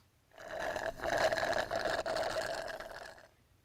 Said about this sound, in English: old car loud.